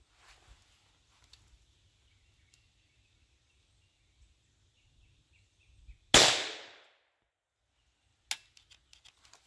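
A scoped rifle fires at a target outdoors: one sharp, loud report with a ringing decay, then a second, shorter shot about two seconds later, with quiet rustling in between.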